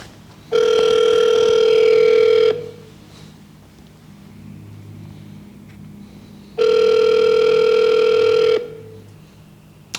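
Two long, loud telephone ringback tones, each lasting about two seconds and separated by a pause, sound during an outgoing call with faint background murmur between them.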